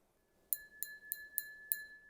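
A crystal drinking glass is struck five times in steady rhythm, each crisp clink leaving a clear sustained ring that carries between taps, close up and alone without speech.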